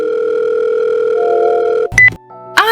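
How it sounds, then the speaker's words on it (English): A telephone dial tone hums steadily and loudly as a call is placed on a mobile phone, then cuts off into a short burst of clicks and tones from the line connecting. "Natasha takes out her phone and calls her mom."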